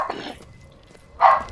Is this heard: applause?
no